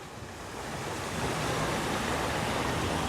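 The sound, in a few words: water feature fountain in a town square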